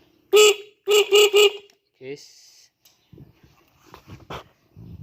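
A short series of motorcycle horn blasts, four in quick succession, loud and close, followed by quieter clicks and handling noise.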